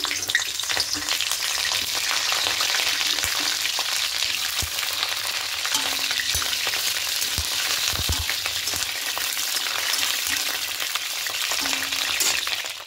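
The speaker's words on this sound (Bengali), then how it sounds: "এবার প্রথমে ফুলকপিগুলোকে একটু হালকা লাল করে ভেজে নেব।" Cauliflower florets frying in hot mustard oil in a kadai, giving a loud, continuous close sizzle with occasional soft knocks of stirring throughout.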